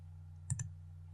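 A computer mouse gives two quick, crisp clicks close by over a low steady hum.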